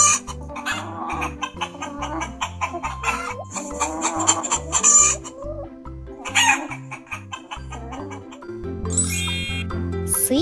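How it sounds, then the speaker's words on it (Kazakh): A barnyard chicken clucks in short, busy bursts, and a rooster lets out loud crowing calls near the end, set against light chiming background music. "Тауық"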